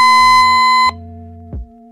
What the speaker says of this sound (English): When the monitor receives an alarm signal, it will illuminate and sound an alarm.